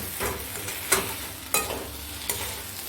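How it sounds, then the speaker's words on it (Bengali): Ghee and garam masala powder sprinkled over hot muri ghonto, a Bengali fish-head and rice dish, in a pan make a continuous close sizzle, with three sharp spoon taps against the pan at regular intervals. "এবার আমি ঘি ছড়িয়ে দিলাম আর গরম মশলার গুঁড়ো ছড়িয়ে দিলাম"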